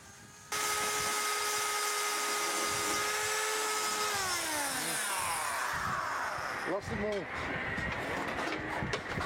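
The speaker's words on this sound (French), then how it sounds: "On en est au polissage des dernières soudures de la base de la clé." A power tool polishes the last welds at the base of a zinc ornament on a Parisian dome, giving a loud, steady high whine that drops in pitch and then breaks into choppy grinding against the metal.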